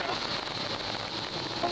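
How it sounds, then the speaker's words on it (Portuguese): Steady rain drumming on a car while driving in São Paulo, a dense close hiss with scattered drop patter throughout the short stretch. "Nas horas que vai estar andando é só chuva."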